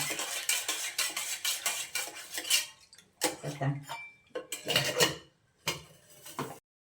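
Metal spoon clinking and scraping rhythmically against a pot while stirring sugar in, close up, with short pauses between bursts.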